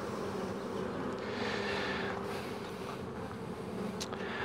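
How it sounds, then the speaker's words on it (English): Honey bees buzz loudly and continuously in a dense, close-up hum during a hive inspection of a nucleus colony ten days after a package install, with no talking. "Just blowing the bees so we can get a good shot of"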